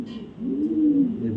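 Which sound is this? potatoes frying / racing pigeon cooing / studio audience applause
racing pigeon cooing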